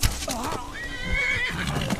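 Shadowmere, the black horse in Skyrim, lets out a loud, close whinny after being struck by accident, a wavering neigh lasting about a second over busy background game sounds.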